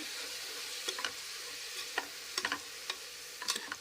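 Mutton keema fries in oil in a pan with a soft continuous sizzle, punctuated by brief spatula taps and scrapes as it is stirred, close but quiet, with no one talking.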